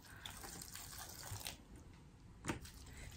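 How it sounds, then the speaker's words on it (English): Water from a water filter pours onto sphagnum moss in a soft, quiet trickle and splash, with one brief louder splash near the end. "So I'm just kind of pouring in water from my water filter."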